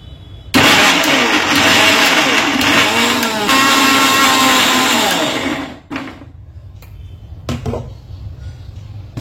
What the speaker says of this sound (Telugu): ఇప్పుడు ఇది మిక్సీ పడేద్దాం.